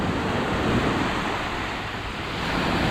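Surf rolls steadily onto an empty beach at Sudak in Crimea during rough end-of-season weather, a continuous loud wash of breaking waves mixed with wind buffeting the microphone, with no voices.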